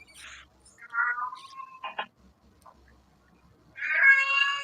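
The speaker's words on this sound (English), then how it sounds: "did you hear your cat, Pat?" Pet cat meowing in a few separate calls, fairly faint and close, with quiet gaps between them and a louder drawn-out meow at the end.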